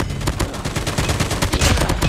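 Sentry gun in a video game firing a continuous rapid stream of loud, close shots with steady, dense rhythm throughout.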